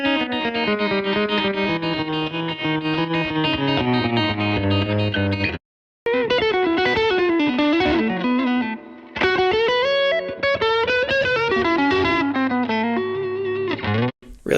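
A distorted electric guitar plays sustained chords and melodic lines through a Fender Tone Master Super Reverb amplifier, loud and continuous with brief pauses between phrases.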